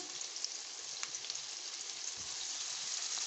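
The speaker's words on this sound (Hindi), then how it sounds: "इसी ऑयल में हम जो है ना ये डालेंगे प्याज, इसको फ्राई करेंगे" Onions fry in hot oil with a steady, close sizzle and faint crackles, alone and unbroken throughout.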